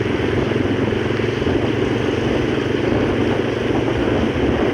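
A motorcycle is ridden at steady speed, its engine drone continuous and close, mixed with wind rush and road noise, and no voices over it.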